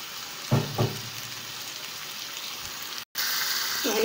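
Liver sautés with onion in a pan, giving a steady soft hiss punctuated by a couple of louder stirring knocks early on and a brief dropout near the end before the sizzle resumes, close by with no voices.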